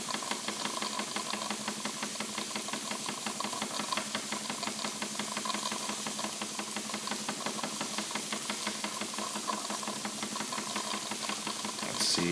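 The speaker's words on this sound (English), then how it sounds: "You can also hear a gurgling sound. That is the condensed water running through the exhaust" A Wilesco D20 toy steam engine runs steadily, its rapid, even exhaust beats chuffing in a continuous rhythm with a faint gurgle of condensed water, heard close up with no talking.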